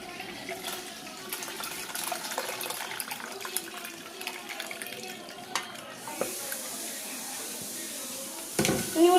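Juice is strained as liquid trickles and splashes softly in a low, uneven pour, with voices talking quietly in the background and a sharper clatter right at the end.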